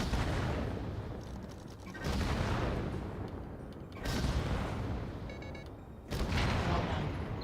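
Mech cannon fire in the Vox Machinae video game, shot at a training target: three heavy booming blasts about two seconds apart, loud and close, each with a long rumbling decay and a faint mechanical whine between shots.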